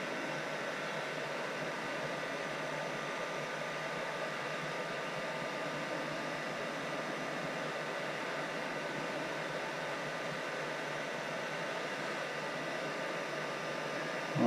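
A heat gun blows hot air to shrink 4:1 glue-lined heat-shrink tubing, giving a steady, even rushing hiss that holds unchanged for about fourteen seconds with no voices.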